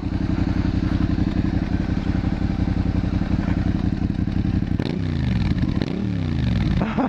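A Suzuki SV650 motorcycle with a loud, throbbing SP Tadao aftermarket exhaust idles with a rapid, lumpy beat, then gets two quick sharp revs near the end, close and continuous.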